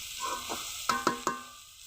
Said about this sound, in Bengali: খুব ভালো করে সবজি ভাজা হয়ে গেছে।